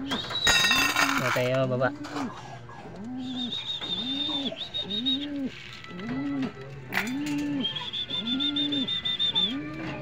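Pet pigeons coo in a steady repeating rhythm of low, rounded calls, close by, while a person speaks over them and higher bird chirps come and go.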